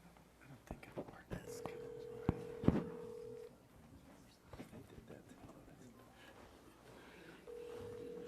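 A telephone call is dialed during a city commission meeting, with steady electronic call tones sounding twice between faint clicks and soft background murmuring.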